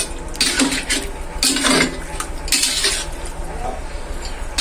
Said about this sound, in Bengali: মশলার সঙ্গে চিকেনটা ভালোভাবে মিশিয়ে নিব